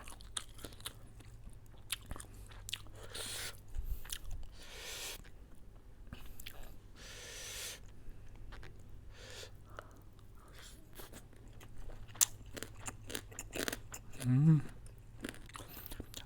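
Close, quiet crunching and biting as someone eats stir-fried quail with soft bones, irregular chews and crunches spread throughout at low volume.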